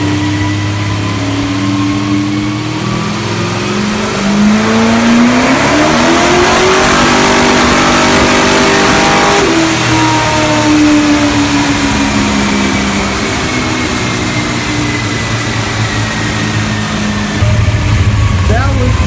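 A 1966 Chevelle's 408 small-block V8 revs hard on a dyno, loud and continuous, its pitch climbing, holding, then falling and climbing again across the whole stretch.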